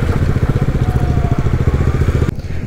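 A KTM Duke 250 and a Bajaj Dominar 250 running side by side before a drag race, a close, loud, pulsing single-cylinder thrum that holds steady, then drops off sharply near the end.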